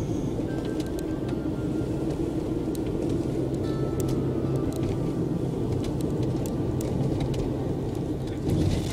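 A car drives along Maskavas Street through the Ķengarags district of Riga, with a steady, loud low road and engine rumble running the whole time and no talk over it.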